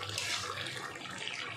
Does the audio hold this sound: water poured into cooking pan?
yes